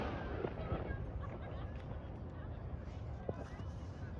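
Victoria Day fireworks at Linus Park in North York, Toronto, pop and crackle at a distance in scattered bursts over a low, steady background wash, with faint voices nearby.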